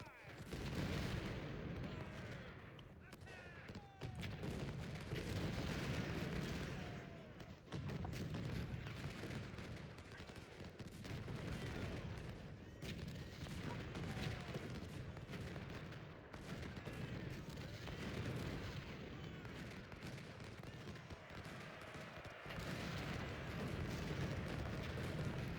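Artillery duel in the Civil War strategy game Ultimate General: Civil War at Antietam, a dense continuous rumble of cannon and musket fire with repeated booms layered over a steady battle din throughout.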